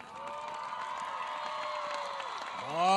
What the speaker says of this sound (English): Round of applause for our senior class of 2021.